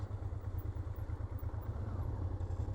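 A parked motorcycle idles close by on a Norwegian coastal stop, its engine throbbing in a steady, even low pulse throughout with no voices.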